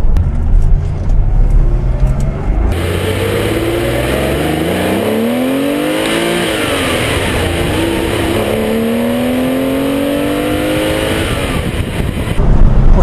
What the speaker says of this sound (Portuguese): Você olhou o contagiro espetando aqui perto dos 7000 e mudar a marcha